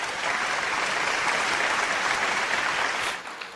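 An audience at a poetry gathering in an old-age home in Vrindavan applauds, steady dense clapping that holds for several seconds and then begins to fade at the end.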